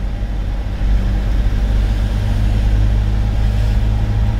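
A car accelerating during a driving test, its engine holding a low steady drone that swells slightly after the first second and stays even, heard from inside the cabin with no talking.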